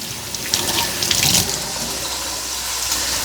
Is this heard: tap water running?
yes